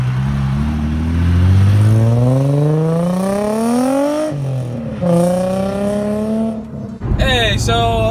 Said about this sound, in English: so that's basically John's car